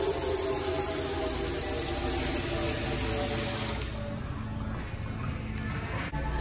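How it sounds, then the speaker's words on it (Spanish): Water gushes steadily from a gasoline-pump-shaped faucet into a tire sink in a Ford-themed restaurant, a continuous loud splashing rush that eases slightly near the end. "por donde sale el agua es una bomba de gasolina"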